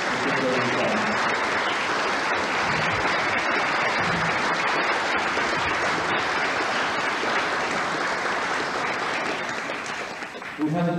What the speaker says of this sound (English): A round of applause, because they're the background people.